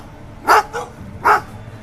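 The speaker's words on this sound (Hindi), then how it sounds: "कुत्तों का एक झुंड उसकी ओर मुंह करके बेतहाशा भौंकने लगता है।" Dogs in a pack bark in a horror story scene, two loud, close barks a moment apart, each with a shorter yelp after it, over a quiet background.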